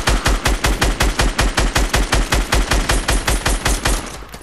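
Automatic gunfire from the Fortnite battle royale video game rattles out as a loud, close, evenly spaced burst of roughly two dozen rapid shots that fades at the very end, with no talking.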